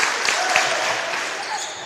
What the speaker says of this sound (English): The JV team in here on their feet clapping.